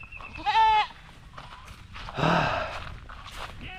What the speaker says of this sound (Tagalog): Yan mga kambing